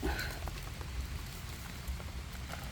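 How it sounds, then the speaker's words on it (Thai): Rain falls steadily in a forest during mushroom foraging, a dense hiss of drops pattering on leaves and ground, close and continuous, with a few sharper taps standing out. "ฝนตกฝนตก"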